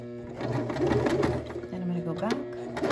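A sewing machine stitches a short seam back and forth at a dress underarm, its steady whirring motor running close and continuous beneath a voice talking through the step.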